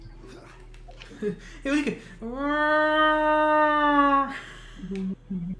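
A passing motorcycle engine whines loudly, rising in pitch and holding, sounding much like a cat's drawn-out meow, with brief talk before and after.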